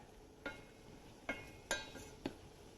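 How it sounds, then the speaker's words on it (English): Shallots stirred around in butter in a pan: four separate spoon scrapes and light clinks spaced about a second apart, faint and close, with a quiet background. "So I just want to stir those shallots around in that butter"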